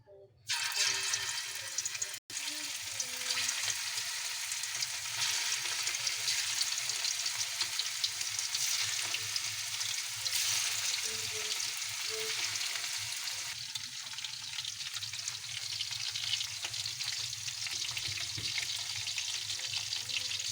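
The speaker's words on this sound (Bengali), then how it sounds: "তেল গরম হয়ে গেছে, এখন আমি মুরগর ছোটো ছোটো টুকরাগুলো সারি দিমু" Small chicken pieces fry in hot soybean oil in a pan, a loud, continuous sizzle and crackle close at hand that runs steadily throughout, with a brief knock early on.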